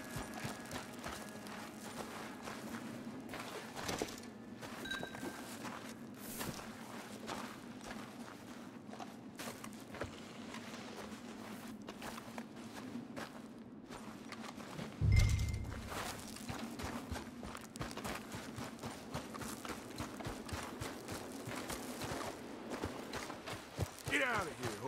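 Horse hooves clip-clop at a steady walking pace in Red Dead Redemption 2 on PC, close and fairly soft over a continuous low ambient hum, with a brief louder thump midway.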